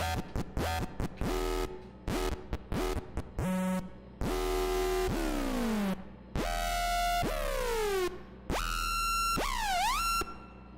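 Short, clanging metallic synth bass hits made in Harmor in FL Studio give way to longer buzzy tones that swoop downward and warble, played solo at steady volume.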